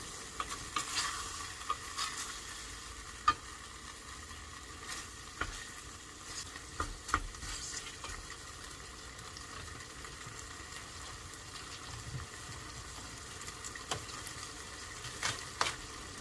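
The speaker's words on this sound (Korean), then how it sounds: "가끔씩 타지 않게 볶아줘요." A pan of chicken stir-frying, with a soft steady sizzle under occasional scraping and tapping stirs, quiet and near, no voices.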